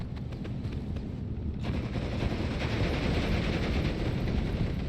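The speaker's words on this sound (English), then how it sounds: "Also flak gun firing at me." A flak gun fires in the Steel Division 2 war game, a dense rumbling burst of rapid gunfire that runs continuously for five seconds, loud and heavy with a brief dip early on.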